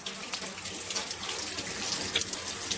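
Warm tap water runs steadily from a faucet into a sink, heated for soaking leather in holster making, a continuous close hiss and splash with no pauses.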